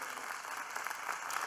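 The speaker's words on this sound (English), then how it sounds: "Let's give them another round of applause again." An award show audience applauds steadily, a dense even wash of clapping that holds at a moderate level without a break.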